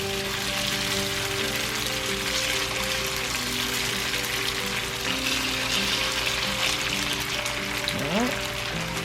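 Tofu pieces for vegan fried chicken fry in a pan of oil, a steady close crackling sizzle holding evenly throughout, with a faint clink near the end.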